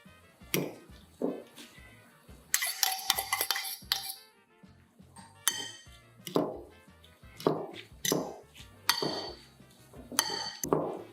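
Whisking eggs with chopped oyster mushrooms and scallion in a bowl, producing a rhythmic series of clinking, knocking strikes of utensil against the bowl, close and fairly crisp, with brief gaps between strokes.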